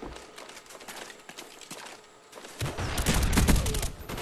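Rapid bursts of automatic gunfire in a first-person shooter video game, sparse clicks and shots at first, then a dense, loud volley of overlapping fire.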